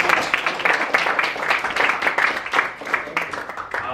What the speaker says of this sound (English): could we please give a big round of applause for Ethan?